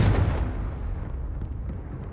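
A Confringo blast curse exploding in Hogwarts Legacy: a single loud, close burst that decays into a low rumbling tail over about two seconds.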